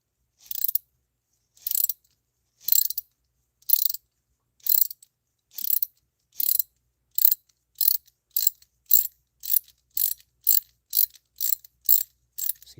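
Ratchet wrench loosening rocker arm bolts on a 2000s Chevy Astro van engine, a series of crisp, close clicking bursts that start spaced apart and grow quicker and more regular, with no talk.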